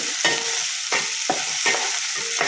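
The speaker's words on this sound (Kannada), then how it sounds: "ಮೆಣಸಿಕಾಯಿನ ಸೇರಿಸ್ಕೊಳ್ಳೋಣ ಅದು ಕೂಡ ಸ್ವಲ್ಪ ಫ್ರೈ ಆಗಲಿ" Green chilies frying in oil in a pan for a greens chutney, giving a steady hiss with a few short bursts of stirring or spatula scrapes, close and fairly loud with no talking.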